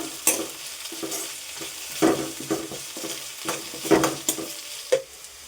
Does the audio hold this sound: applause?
no